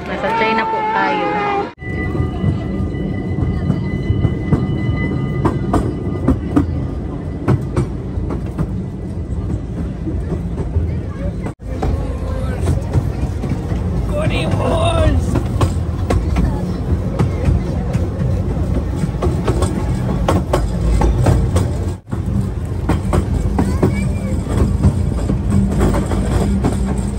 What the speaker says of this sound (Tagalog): We're in the train.